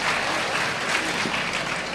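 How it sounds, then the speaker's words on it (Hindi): An audience of women claps together in a dense, sustained burst of applause at a religious talk, steady and fairly loud throughout. "बहुएं ताली तो बजा दो"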